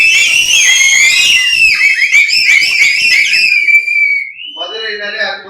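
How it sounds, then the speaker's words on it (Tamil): Fans at a film promotion event in Madurai whistle loudly and shrilly, several overlapping whistles with crowd screaming and voices underneath. "வந்து இங்க ஏர்போர்ட்ல இறங்குனதுல இருந்தே விசில் சவுண்ட் கேட்டுட்டு இருக்கு"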